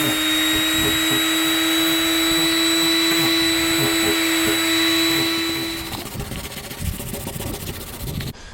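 Power sander with coarse 40 grit sandpaper working over a surfboard, a loud steady motor whine with a strong tonal hum that runs continuously, then drops in pitch and roughens as the machine winds down near the end.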